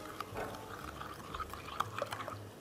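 Butter gets stirred into a chocolate fondant mixture, giving soft, faint wet scraping and light sloshing strokes in an irregular rhythm over a few seconds, close by and quiet.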